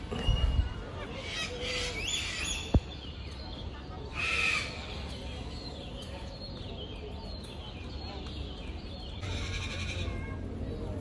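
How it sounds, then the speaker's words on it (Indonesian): Cockatoos at Bandung zoo give harsh, raspy screeching calls in a few separate bursts over a steady outdoor background, with faint human voices in the distance. "Di sini banyak sekali burung kakatua ya sahabat."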